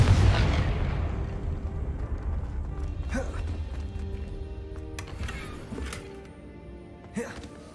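A Confringo fire spell in Hogwarts Legacy lands with a heavy, booming blast that rolls away slowly, followed by a few scattered smaller crackles and pops.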